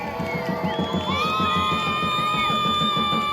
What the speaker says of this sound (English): So can we have a round of applause for Food Not Bombs?